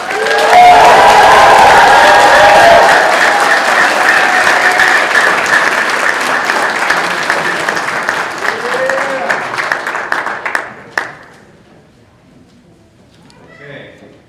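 At a U.S. District Court naturalization ceremony, an indoor audience breaks into loud sustained applause and cheering that gradually thins to scattered claps and fades out, with a voice briefly over the end.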